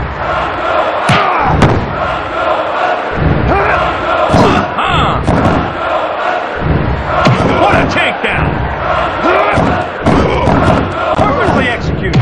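Dense wrestling arena crowd noise from the N64 game WWF Attitude during a four-way match, a constant roar punctuated by slams and thuds, with a commentator's voice over it.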